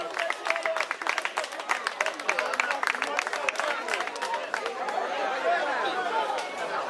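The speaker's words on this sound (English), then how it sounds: "let's give a big hand" A crowd at an outdoor march and rally breaks into scattered clapping that builds into a rapid burst of applause, with chatter and voices mixed in at a moderate distance.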